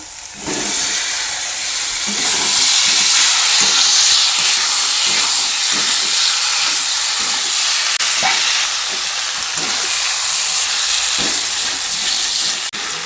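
Yellow pointed gourd and potato pieces sizzle loudly in hot spiced masala for a Bengali pointed gourd and prawn curry, a steady close hiss with frying crackle throughout and no voices.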